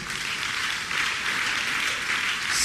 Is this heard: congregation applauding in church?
yes